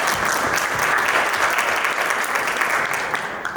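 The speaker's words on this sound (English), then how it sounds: "So let's give them a round of applause." An audience applauds at a celebration-of-life gathering held by a charitable organization. A dense, even round of clapping runs throughout, fairly loud and close, then tapers slightly at the end.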